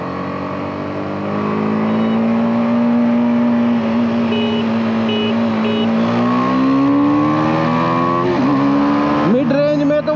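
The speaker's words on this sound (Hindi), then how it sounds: "सेकंड गियर पे 40 तक चलते हैं और फिर एक बार खींच के देखते हैं बाइक को।" 2021 BMW G 310 R and KTM Duke 390 BS6 motorcycles pull hard in second gear on a highway. A single-cylinder engine drones close by as its pitch climbs steadily, then rises sharply near the end.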